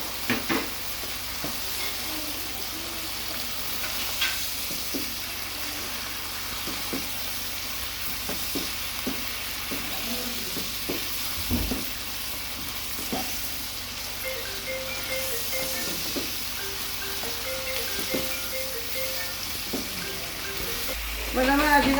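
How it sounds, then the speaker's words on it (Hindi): Garlic ginger paste frying in oil for Sialkoti mutton karahi, a steady close sizzle with intermittent scraping and stirring of a spoon against the pan, continuing without speech. "अब इसके अंदर डालेंगे लहसुन अदरक का पेस्ट और इसको हम अच्छी तरह भूनेंगे।"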